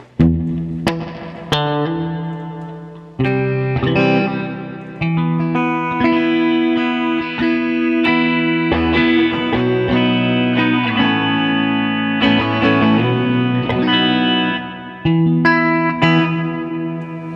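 A VFE Yodeler pedal runs guitar chords through delay with added reverb, so sustained, effected tones ring out with washy tails between strums. It plays loud and steady with no talking.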